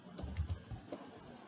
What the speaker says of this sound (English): type here Firebase